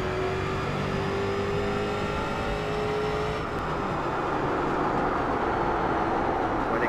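A race car engine in the iRacing simulator holds a loud, steady high-revving drone as it laps, with a gear change partway through.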